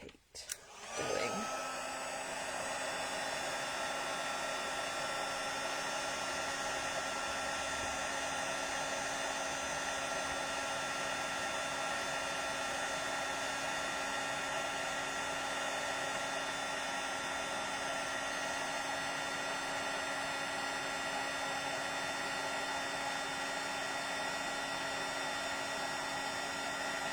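A heat tool for card-making embossing switches on and runs as a steady, loud blowing whir with a constant tonal hum, continuing unbroken for nearly half a minute.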